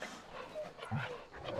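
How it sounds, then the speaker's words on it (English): Dogs in the video game Final Fantasy 14 give a brief, faint burst of barking and whimpering, low in level and short-lived. "Jump scare, it's 17 rabid dogs and a pig."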